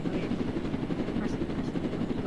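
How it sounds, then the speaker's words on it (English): A helicopter in the Roblox video game flies with a loud, steady rotor-and-engine drone that stays even from start to finish and sits close and full. "That's me in the helicopter."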